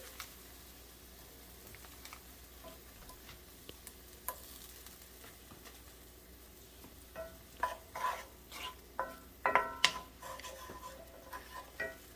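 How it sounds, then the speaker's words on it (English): Unsalted butter pieces stirred into a hot pan of steak bites, a quiet steady sizzle with scraping stir strokes that grow louder and more frequent toward the end, with no talking. "So I'm going to put those in the pan, and we're going to stir that in."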